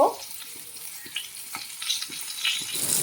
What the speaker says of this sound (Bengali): তেলটা গরম হতে পটলগুলো দিয়ে দিয়েছি এবার পটলগুলো ভালো করে লাল লাল করে ভেজে নেব